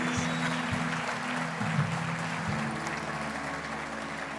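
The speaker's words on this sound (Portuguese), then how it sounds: "Vamos aplaudir o Senhor mais uma vez." Congregation applauding in church, a sustained wash of clapping from many hands with a low hum underneath, steady and moderately loud for the whole stretch.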